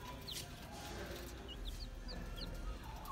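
Baby chicks huddled under a heat lamp give short high cheeps, scattered and fairly close, over a steady background hum with no talking.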